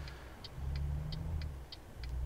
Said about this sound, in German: Oh, mein Motor hört sich echt nicht gut an.